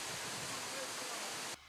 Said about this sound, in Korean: 아시아에서 유일하게 바다로 곧장 떨어지는 폭포인 서귀포시 정방 폭포입니다